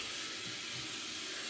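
Tap water runs steadily into a kitchen sink as raw chicken meat is rinsed before straining, a faint continuous hiss and splash with no voices.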